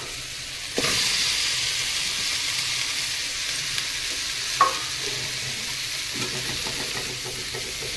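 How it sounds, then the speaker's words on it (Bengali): Mixed vegetables stir-fry in a pan for a light rohu fish curry, a steady sizzle starting abruptly and running throughout, with occasional sharp scrapes and knocks of a spatula. "এবার আমি সবজিটা দিয়ে ভালো করে কষিয়ে নেব"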